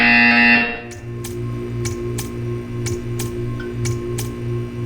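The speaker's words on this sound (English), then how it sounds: "You will hear a buzzer." Buzzer in the Portal 2 video game, sounding over a steady hum: a loud tone at the start, then a series of regularly spaced sharp clicks or pulses over several seconds.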